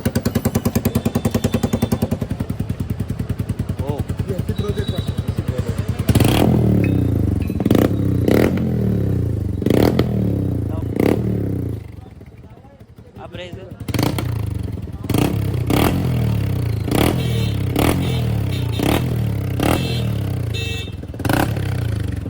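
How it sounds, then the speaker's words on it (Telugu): A loud Yamaha R15 V2 motorcycle engine, running with no silencer or exhaust fitted, revs repeatedly in sharp, popping bursts, close by, with idle rattling between throttle blips and no voices. "ఇది వితౌట్ సైలెన్సర్,"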